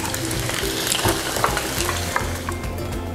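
Pempek kapal selam fish cakes frying in hot oil, a steady dense sizzle with crackling pops throughout, close and fairly loud, with no talk.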